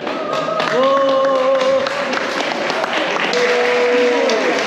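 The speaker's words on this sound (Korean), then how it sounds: "박수 한번" A hall audience at a church leadership retreat claps loudly and continuously for a winning team, with voices calling out over the applause.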